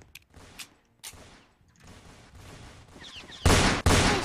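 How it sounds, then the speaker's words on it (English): Gunfire in the Roblox game Fortnite Simulator, a few scattered shots early, then two loud close blasts in quick succession at the end, with no talk. "Why is someone shooting at me?"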